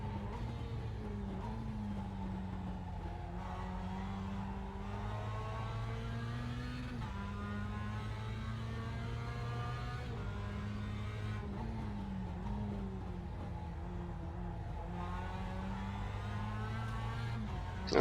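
A Mazda MX-5 Cup race car engine in iRacing drones steadily and close, pitch climbing through each gear and dropping at shifts in a repeating pattern, with no talk over it.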